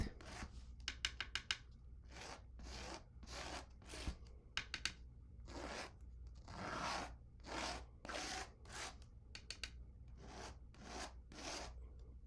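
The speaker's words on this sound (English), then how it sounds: "I'm going to just start scraping with the knife" Palette knife scraping acrylic paint across canvas, a series of close, soft rasping strokes in an irregular rhythm, quiet and without speech.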